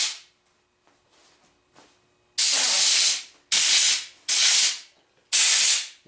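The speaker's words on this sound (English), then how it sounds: "I'm going to get some white lithium grease." White lithium grease sprays onto wrist pin bushings of a Harley-Davidson Ironhead engine during a top-end rebuild, four loud hissing bursts from an aerosol can after a few faint clicks and shorter puffs.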